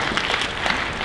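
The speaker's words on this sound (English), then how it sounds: "Yay, clap." Audience at a PAX West 2018 game-development panel applauding, a brief, steady patter of many hands clapping in a large hall.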